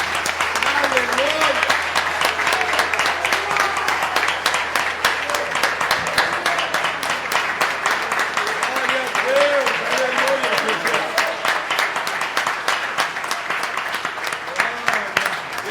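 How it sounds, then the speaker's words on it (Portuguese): A church congregation at an evening service applauds at length, dense steady clapping filling the hall, with voices speaking and exclaiming over it throughout. "Você pode aplaudir o Senhor Jesus nessa noite?"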